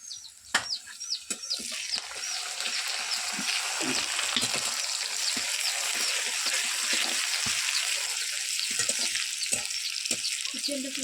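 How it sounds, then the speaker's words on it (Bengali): Sliced onions sizzle and fry with salt in a pan, the base for a village-style mutton gravy, a steady dense crackle with occasional stirring scrapes and a faint distant bird call behind. "একটু পেঁয়াজটা একটু ভালো করে ফ্রাই করে তারপরে মশলাটা দিয়ে গ্রেভিটা বানাবো"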